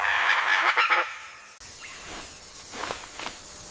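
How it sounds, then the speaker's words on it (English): A kagu, the rare grey crested ground bird of New Caledonia's forests, gives a short run of harsh, fowl-like calls in the first second, then fainter scattered calls farther off, with no talk. "This is the kagu, with soft gray feathers and a delicate crest on its head."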